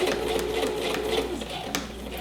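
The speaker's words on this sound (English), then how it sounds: "I'm going to do a back stitch" A sewing machine runs a back stitch on a fabric seam, giving a steady close mechanical whir with a few faint clicks, and no voices.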